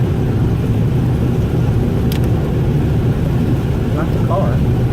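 Road noise inside a moving car on a rainy day: a loud, steady low rumble and roar of tires on pavement fills the cabin, with a brief higher squeak and a couple of faint chirps rising above it.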